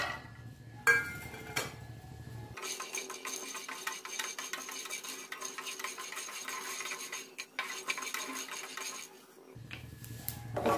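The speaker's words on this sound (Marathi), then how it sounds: "त्यासाठी अगोदर आपण आता हे शेंगदाणे भाजून घेणार आहोत" Peanuts dry roasting in a pan, a soft scratchy rattle of nuts being stirred and scraped against the metal, fairly quiet, with brief clinks near the start and end.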